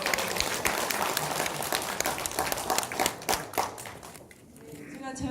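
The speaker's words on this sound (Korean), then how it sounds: "박수 한번 받고 다시 시작하도록" An audience at a regional microbial agriculture forum applauds, many hands clapping steadily for about four seconds before dying away into quiet room sound with a faint voice.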